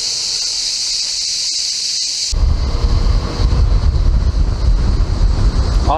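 Cold spring water pours steadily beside a mountain road near Hisarçandır, Antalya, a loud, close, continuous rushing splash that begins abruptly after a quieter insect-like hiss.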